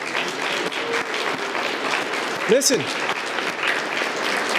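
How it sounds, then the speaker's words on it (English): Audience applause at a Catholic vocations talk, a steady wash of clapping filling the room throughout, with a voice briefly speaking over it near the middle. "Let's give them a round of applause."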